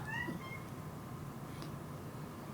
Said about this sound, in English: Hear the cat meowing.